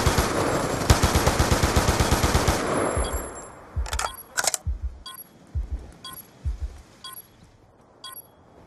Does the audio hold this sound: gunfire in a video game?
yes